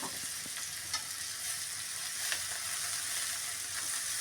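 Turmeric and chopped green chili fry in a pan, a soft, even sizzle and crackle with a couple of faint taps of stirring, no voices.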